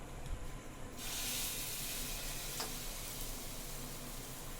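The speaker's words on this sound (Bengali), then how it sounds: "আমি সেই মুড়িগুলো কিন্তু সব চপের মতো করে ভাজছি" Puffed rice balls coated in gram flour batter fry in hot oil as chops: a sudden burst of bright hissing sizzle after a quieter start, then steady crackling frying, close and moderately loud, with no talking.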